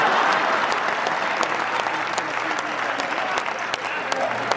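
Sustained applause from an audience at a Hindi comedy poetry gathering, dense steady clapping filling the whole stretch without a break, with faint crowd murmur mixed in.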